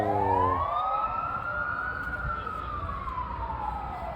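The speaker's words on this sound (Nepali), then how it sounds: "हजुरले देख्नुभयो त एम्बुलेन्स?" An ambulance siren passes along a road, one long rising and falling wail that sweeps loud and close, then fades slightly as traffic rumbles underneath.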